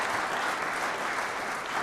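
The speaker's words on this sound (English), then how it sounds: "Can we give him a round of applause?" A funeral congregation applauds a young comedy semi-finalist, the clapping steady, dense and fairly close, filling the whole moment with no voices above it.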